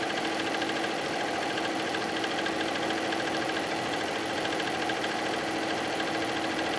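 Sewing machine runs steadily while stitching a standard pillowcase seam, a continuous rapid mechanical whir with a fine rhythmic needle buzz, close and unbroken throughout.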